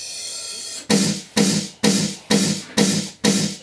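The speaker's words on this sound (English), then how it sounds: "I have this one, just like a snare." Six punchy snare-like synth hits with a vocoder effect, played as an electronic dance music sound effect, spaced evenly about every half second after a brief sustained tone, loud and bright with no talking.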